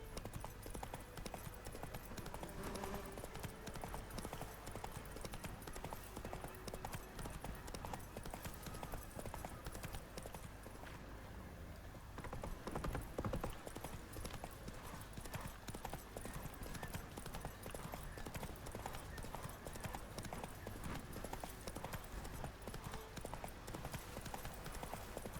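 Roach, a horse in The Witcher III: Wild Hunt, clip-clops in a soft, even, continuous gait that stays quiet and fairly distant.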